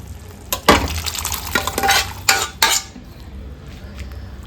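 A pot of rajma curry with boiled kidney beans in simmering masala, stirred with a utensil. Several distinct scraping clinks sound close against the pot over a soft bubbling background, with no talk.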